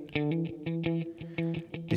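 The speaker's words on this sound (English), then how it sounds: "Reverb in there at the moment." A detuned, analog-style synth line processed through reverb in the Waves Manny Marroquin plug-in, with short pulsing notes in a quick repeating rhythm and a washy tail.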